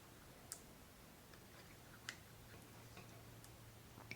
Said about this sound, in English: You hear it clicking in.